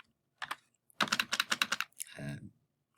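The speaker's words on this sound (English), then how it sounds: "we type" Typing on a computer keyboard while entering Python code: close, crisp keystroke clicks in a short burst, a pause, then a quick rapid run of keys and a final softer flurry.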